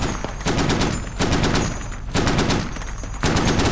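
Sustained bursts of rapid Browning machine gun fire in the game Squad, loud and continuous with brief gaps between volleys.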